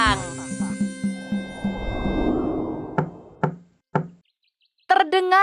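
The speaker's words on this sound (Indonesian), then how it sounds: "Terdengar suara ketukan pintu." Knocking on a door: three hollow knocks land in a quick row, loud and close, after a stretch of birdsong and chirping. A short vocal sound follows them.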